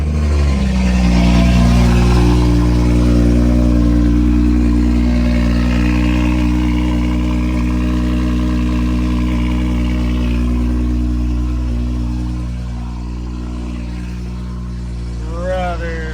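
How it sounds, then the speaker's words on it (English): A BMW 440i Gran Coupe with a 5-inch downpipe exhaust fires up on a cold start, its loud, steady, deep exhaust drone holding for several seconds before easing slightly quieter, while people talk over it. "Let's get a cold start. This thing's gonna be insanely loud."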